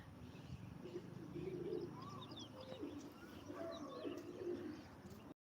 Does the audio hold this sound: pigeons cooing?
yes